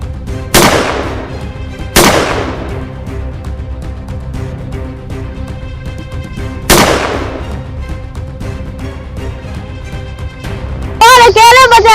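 Three sharp gunshot-like bangs ring out in a Hindi village comedy skit, spaced a few seconds apart over a steady music bed, followed by a warbling electronic effect at the end.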